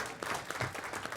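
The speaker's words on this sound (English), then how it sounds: "I'd like you guys to give everybody in this room a round of applause" Audience applause fills a luncheon room at a scholarship event, a brief dense burst of many hands clapping at moderate volume.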